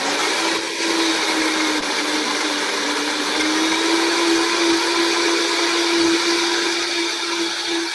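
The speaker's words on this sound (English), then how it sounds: "We're going to put on our blender." A blender crushes ice for a frozen pineapple cocktail, running at a loud, steady, high-pitched whine that holds without a break for the whole stretch.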